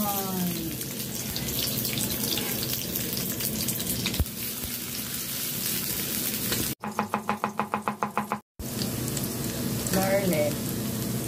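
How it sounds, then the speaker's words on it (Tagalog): Onion and garlic sauté in hot oil for an ampalaya dish with a steady, soft sizzle, broken by a short stretch of clicking and a brief gap. "Gigisahin lang natin guys yung onion, garlic"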